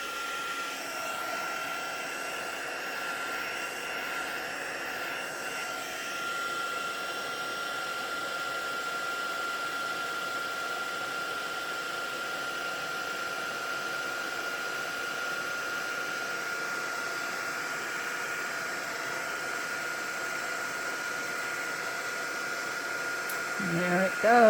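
Heat embossing tool blowing hot air over a tissue paper Christmas craft piece, a steady continuous whooshing hum lasting throughout at moderate level, swelling slightly louder at the very end.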